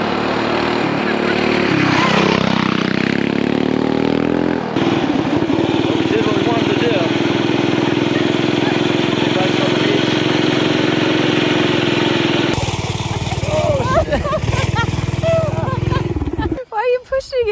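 Coleman mini bike with performance parts riding on a beach, a loud buzzing small engine that revs and settles into a steady drone, cuts to a rougher stretch, and then sputters out near the end.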